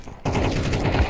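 Rapid gunfire bursts from a Counter-Strike 2 match, starting abruptly after a brief quiet and continuing as dense, loud shots that fill the rest of the moment.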